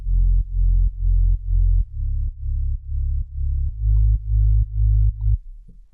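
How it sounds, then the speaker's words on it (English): Deep sub-bass synthesizer from a low-pass-filtered saw wave in Sylenth1, playing a steady pattern of sustained low notes with short gaps, loud and alone, for a progressive house track. "The sub-bass is a saw wave in silent 1 with a low pass filter on it,"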